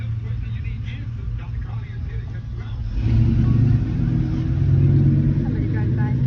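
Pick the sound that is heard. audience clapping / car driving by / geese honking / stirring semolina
car driving by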